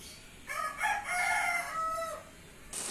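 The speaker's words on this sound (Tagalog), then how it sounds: "Daming manok dito." A rooster crows loudly and close by in a long, wavering call, with chickens clucking around it, heard alone over quiet background in an outdoor cooking spot.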